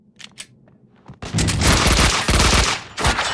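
Sustained automatic gunfire in the video game Max Payne 2, a loud, dense burst of rapid shots lasting a couple of seconds after a few quieter sounds, with a short pause before a final shot.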